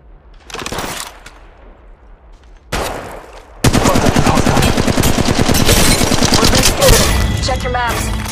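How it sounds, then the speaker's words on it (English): Rapid automatic gunfire from the Apex Legends Mobile battle royale game: two short bursts, then a long, loud, continuous stream of shots that dominates to the end. "Shots fired at me."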